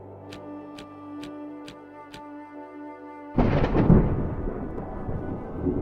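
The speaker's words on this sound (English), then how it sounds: "Thunderclap happens." A sudden thunderclap bursts in after a few seconds of clock-like ticking, then rolls off into a long, loud rumbling decay with no voices.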